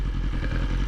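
A 2020 BMW S1000RR sport motorcycle engine runs steadily while riding, a loud, continuous close-up drone with a rumbling low-mid texture and no talk.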